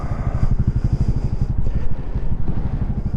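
A Lifan KPX 250 motorcycle engine runs steadily close by with a dense, throbbing low pulse and slight mechanical clatter, holding an even idle-like rhythm throughout.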